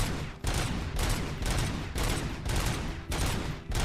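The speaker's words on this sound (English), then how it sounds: "Now I don't have to reload my service weapon, and it's a burst fire shotgun." Rapid repeated blasts from a burst-fire shotgun in the RoboCop video game, loud and dense, coming in about seven close-spaced volleys with no talking.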